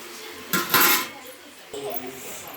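A spoon scrapes and clinks against a pot of farm chicken curry in two short bursts, loud and close, with quiet gaps between.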